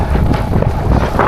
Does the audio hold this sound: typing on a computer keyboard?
no